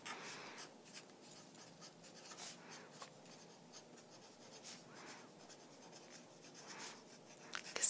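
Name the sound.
writing notes with a pen on paper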